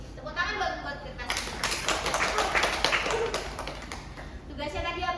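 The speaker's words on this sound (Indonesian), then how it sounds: "Tepuk tangan buat kita." A class of children claps together in a room, a burst of scattered hand claps that swells for a few seconds and then thins out, with faint chatter and voices around it.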